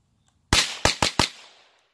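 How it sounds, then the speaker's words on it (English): A new .22 caliber gun test-fired outdoors: four sharp, loud cracks, the first alone and three more in quick succession, each with a short fading echo. "So it's chambered in 22, and we're gonna put some rounds."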